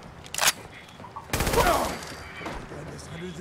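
Bursts of gunfire from the video game Fallout 4: a sharp volley, then a longer rattling burst of rapid shots, fairly close and loud, with game ambience after and a voice briefly underneath.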